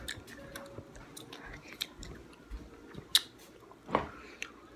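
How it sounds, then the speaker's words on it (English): Quiet, close chewing of bubblegum with soft sticky smacks and a couple of sharp little pops, heard alone at low level. "I was blowing bubblegum bubbles."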